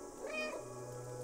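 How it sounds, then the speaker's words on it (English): A single short cat meow from the video game Stray, heard once over a steady background hum. "I'm finna meow."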